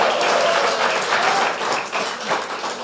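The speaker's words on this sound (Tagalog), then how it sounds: "Malakas sa palakpakan. May kasamang hiyawan." A church congregation breaks into loud applause mixed with cheering and shouts, a dense, continuous wash of clapping that holds steady for about three seconds with a few swells.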